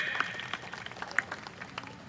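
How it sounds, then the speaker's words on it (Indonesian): Audience applause at an Indonesian panel discussion, a moderate crowd clapping steadily with a few sharper individual claps standing out, faint voices mixed in. "tepuk tangan untuk Bang Edwin."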